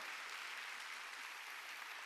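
Congregation clapping at a church Sunday worship service, a steady wash of many hands applauding together, faint and distant throughout with no talk over it.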